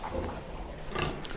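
Newly farrowed piglets grunt softly in a pig shed on a farm, a short run of low, muffled snuffling grunts close by.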